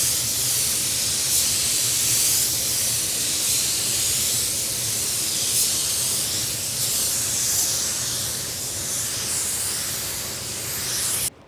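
An Exodus Luma 3 spray gun lays down paint at 26 PSI with the fan and fluid opened fully. It gives a steady, close, loud hiss that runs without a break and cuts off at the end.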